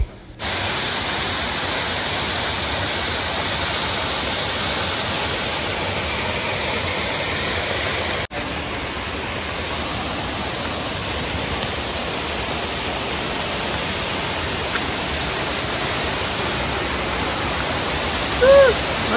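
Waterfall at Bangara Balike falls, with low water from light rain, roars as a steady broadband rush close by, loud and unbroken from start to end, with only a brief dip partway through.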